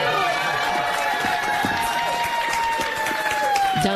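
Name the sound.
kindergarten classmates cheering in a courtroom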